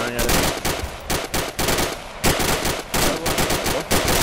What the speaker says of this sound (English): Yeah, I'm firing at it.